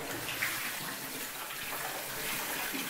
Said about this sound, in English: we'll check the hot water. And you can just hear how powerful that is